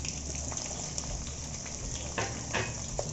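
Green chillies and onions sizzle and fry steadily in a pan of cumin and fennel seeds for a dhaba-style aloo paratha filling, a close, continuous crackle with a few louder pops and no talking.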